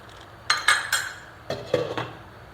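Metal lid and pot clatter as a hot pan of special chickpea curry made without coconut is covered. There are several sharp clinks and clanks in two quick bursts, close by.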